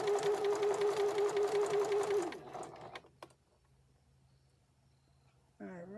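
A sewing machine runs fast, stitching fabric for a memory bear in a steady mechanical whir for about two seconds, then stops; a few clicks and a quiet room follow before a voice starts.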